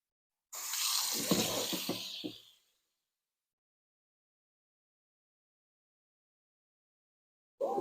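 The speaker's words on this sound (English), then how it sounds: "So I'm going to rinse those again." Running water from a tap splashes over white beans in a strainer for about two seconds, close and clear, then stops, leaving a long silence.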